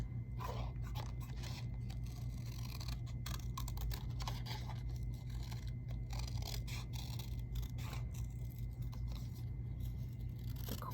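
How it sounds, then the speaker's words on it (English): Scissors snip through paper in a quiet, close series of irregular crisp cuts and crunches with no talking. "When you're cutting, it's usually easier to turn your paper instead of your scissors."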